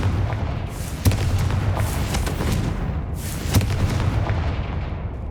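Explosions from the Confringo fire spell in Hogwarts Legacy: a series of booming blasts over a constant rumble of game music and ambience, with two sharper bursts standing out.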